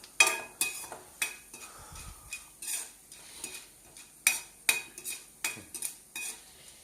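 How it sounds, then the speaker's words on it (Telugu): Mustard seeds frying in oil for upma give a soft sizzle under repeated clinks and scrapes of a metal spoon against the pan, about a dozen sharp strokes in irregular rhythm, close and fairly quiet. "కొంచెం ఆవాలు వేస్తున్నానండి. లైట్గా వేపుకోవాలండి ఇవి."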